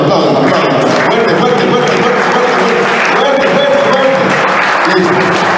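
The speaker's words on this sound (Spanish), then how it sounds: "Necesito que aplaudan, a la 1, a las 2 y a las 3, aplaudan." A classroom audience of students at a school visit claps loudly on cue for several seconds, a dense, steady wash of applause with voices mixed in.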